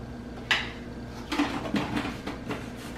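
Mass gainer powder scooped into a weight-gain shake: several close, dull scraping knocks spaced about half a second apart over a steady low room hum, with no voices.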